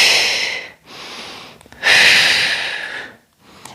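Two long, forceful breaths push out through the mouth during a beginner core strength exercise, close and breathy, each fading out, with a short gap between them and a faint tap at the end.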